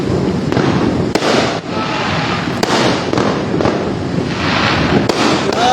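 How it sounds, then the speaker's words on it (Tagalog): New Year fireworks burst and crackle over Makati, a dense, continuous barrage of pops and booms with sharp louder reports scattered throughout, and no talking. "Kunti lang putukan sa Makati guys"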